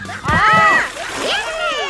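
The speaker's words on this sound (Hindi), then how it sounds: "गर्मियों में ठंडे ठंडे पानी से नहाने में तो कितना मजा आता है" Cartoon water splashes and sloshes while a character bathes with cold water in summer, with loud splashy bursts under excited animated voices.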